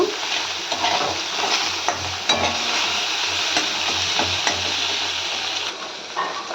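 Potatoes fry in fish fat in a pan, a constant close sizzle with occasional light clinks of stirring throughout.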